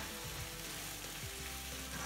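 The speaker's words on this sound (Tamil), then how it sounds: "இந்த மஷ்ரூம் சாஃப்டாக வரைக்கும் கொஞ்சம் எண்ணெயிலே ஃப்ரை பண்ணி எடுக்கணும்" Salted mushrooms frying in a little oil, a soft, continuous sizzle held at low level with a faint low hum underneath, no talking.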